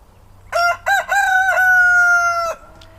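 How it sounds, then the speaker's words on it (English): A rooster of a dual-purpose breed crows close by: a couple of short opening notes, then one long, strained call that cuts off abruptly. "having dueling roosters crowing"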